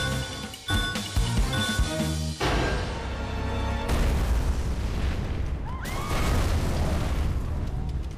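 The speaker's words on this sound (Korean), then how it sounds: "무열이 타고 간 자동차가 폭발하고" A car explodes in a Korean action thriller trailer, a loud broadband boom and rumbling blast following a stretch of dramatic music, with debris-like crackle trailing off.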